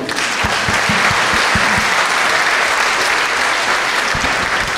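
Loud, continuous crowd applause at a closing event of an education program, a dense wash of clapping with a few sharp, distinct claps standing out nearby.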